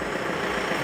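The diesel engine of a 5-ton forklift runs in a steady, loud, low rumble close by, an even idle with no pauses or talking over it.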